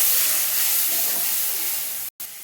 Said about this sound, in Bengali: দেবো লঙ্কার গুঁড়ো, দেবো হলুদ গুঁড়ো, দিয়ে দেবো অল্প একটু জল দিয়ে মশলাটা কষিয়ে দেবো।